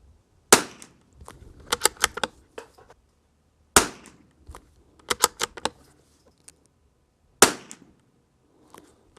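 A Lithgow LA101 rifle fires CCI SV ammunition outdoors with three sharp, evenly spaced cracks, each followed by a cluster of softer mechanical clicks from handling the action.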